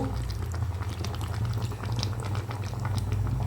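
Country chicken curry bubbles vigorously in a pot after water has been added, making a steady, close, continuous boiling and gurgling with no talk.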